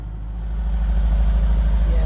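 A cold car engine with its original exhaust idles high, a steady low throbbing rumble that builds slightly in the first half-second and then holds an even, pulsing tick-over close by.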